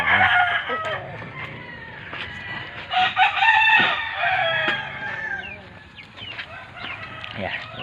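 A chicken at home clucks and calls in a run of close, varied cries, some rising to loud bursts, with a voice speaking now and then underneath.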